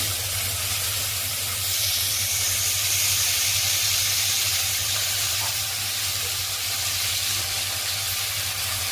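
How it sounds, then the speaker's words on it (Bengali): Chicken pieces fry in butter with chopped garlic, giving a steady, close sizzle and hiss over a low hum that holds without pause. "একটু এটা আমি চিকেনটা একটু ফ্রাই করে নেব।"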